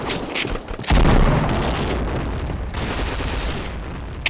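A grenade in the shooter game Point Blank goes off with a loud, close boom. Dense rattling gunfire follows and keeps going in a continuous barrage, with a couple of sharper cracks near the start and end.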